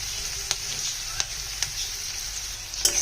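Onion flowers and green chilies fry in a pan for a winter vegetable bhaji, giving a steady close sizzle with a few sharp clicks of stirring spread through it.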